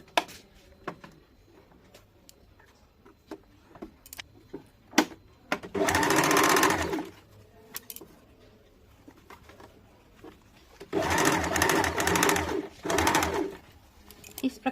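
A sewing machine stitches a strip onto a square kurti neckline in two loud, rapid bursts of a few seconds each. Quiet handling clicks and cooing pigeons fill the gaps between them.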